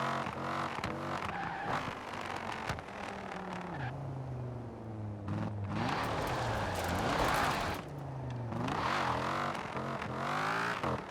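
A Shelby Mustang GT350R in Forza Horizon 4 drives with a loud, rumbling engine that rises and falls through repeated revs and gear changes, with harsh bursts of acceleration.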